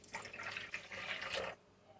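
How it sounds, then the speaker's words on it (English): Water streams from a kitchen dispenser into a container for a cooking recipe, a soft hissing pour lasting about a second and a half before stopping, faint and close. "I'm going to get some water out of my dispenser."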